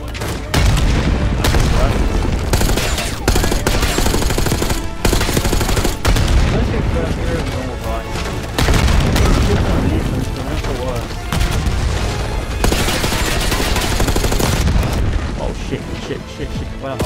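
Dense gunfire and explosions from the Call of Duty Black Ops 6 video game, loud and continuous with heavy booming blasts and rapid shots throughout, with players talking over the combat.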